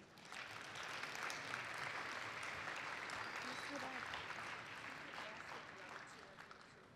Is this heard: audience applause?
yes